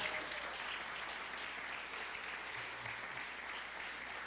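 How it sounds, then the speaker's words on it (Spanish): A church congregation claps for the Lord, producing a steady wash of applause that sounds somewhat distant and faint and holds evenly throughout. "Dele un aplauso al Señor porque Él es bueno"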